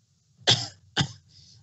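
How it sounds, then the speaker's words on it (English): Two quick, close coughs from a woman, sharp and throaty, followed by a faint breathy trail. "She coughed."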